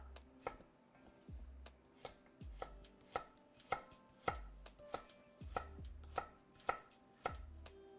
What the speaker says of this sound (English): cut our carrots like that